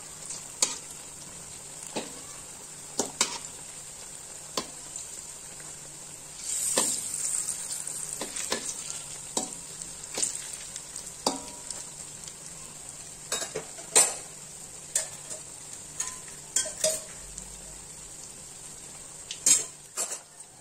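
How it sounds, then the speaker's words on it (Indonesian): Corn fritters (perkedel jagung) frying in a pan, a steady hiss of oil under sharp intermittent scrapes and clinks of a utensil stirring and turning them, close and moderately loud, with no voices. "Goreng perkedel jagung hingga warnanya berubah ya Bunda, menjadi kuning keemasan atau golden brown."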